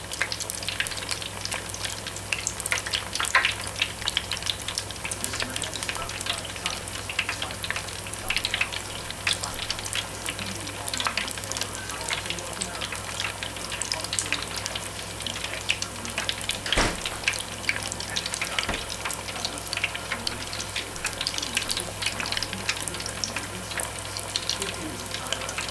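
Chicken frying steadily in a pan, a continuous loud sizzle with crackling pops running the whole time, with no talk over it.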